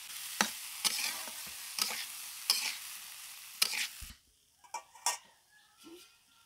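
Bitter gourd and potatoes fry in a pan as a spatula scrapes and stirs in a string of sharp, regular strokes, then fades to softer, scattered sizzling.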